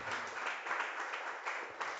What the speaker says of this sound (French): On applaudit ce frère.